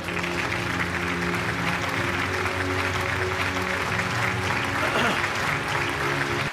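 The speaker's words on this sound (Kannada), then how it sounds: "ಬನ್ನಿ, ಜೋರಾದ ಚಪ್ಪಾಳೆ" An audience at the Chittara Star Awards 2024 ceremony breaks into loud, sustained applause, a dense wash of clapping that carries on steadily from start to finish.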